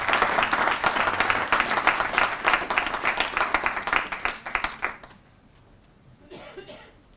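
An audience at a professorial inauguration ceremony applauds, dense sustained clapping that is loud and full for about five seconds before it quickly dies away to a quiet room with a few scattered claps.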